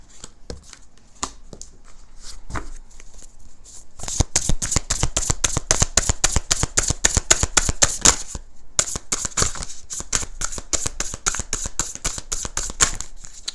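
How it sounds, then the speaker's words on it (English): Rapid riffle-style shuffling of a tarot deck, close up, in repeated bursts of crisp flapping clicks with short pauses between. "I'm not shuffling these properly, but I'll take the ones that flipped upright"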